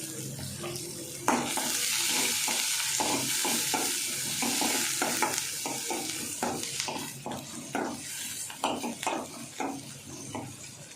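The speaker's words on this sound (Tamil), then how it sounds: "இப்போ எதுவும் நல்லா ஃப்ரை ஆகட்டும்." Okra frying in a pan for a Tamil buttermilk curry gives a steady loud sizzle, with a spoon scraping and stirring in irregular strokes throughout.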